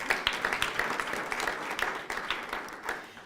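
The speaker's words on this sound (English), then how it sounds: "So big round of applause for Alex" Applause for a staff member at a PAALS graduation ceremony, a brisk crowd of hands clapping with a few louder claps standing out, no voices over it.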